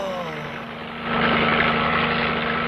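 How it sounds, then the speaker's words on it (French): A helicopter flying overhead, its steady rotor drone and engine whine swelling louder partway through and holding strong, with no talk over it. "Un hélicoptère."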